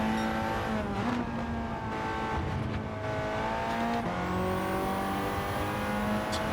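A Ford Focus road car lapping Le Mans in Gran Turismo 7, its engine droning loudly and climbing through gears with steady upshifts, racing cars around it, no talking.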